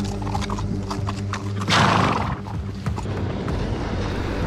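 A horse on a mountain trail in Kyrgyzstan, heading up toward a high camp at 4000 metres. A whinny rises midway through a steady outdoor rumble, with faint hoof and movement sounds and no talk.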